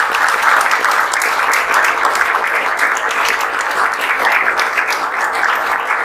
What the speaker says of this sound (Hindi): तो हम चाहेंगे आप लोग एक बार जोरदार ताली।